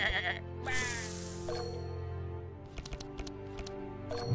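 A sheep bleats in the Across the Obelisk video game, a short wavering cry followed by sharp clicks and small game effects over a steady electronic hum.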